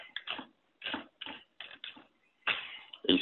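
Quick bursts of keystrokes on a computer keyboard while a short formatting command is entered in MATLAB, clustered in several uneven groups with brief pauses, close and moderately loud.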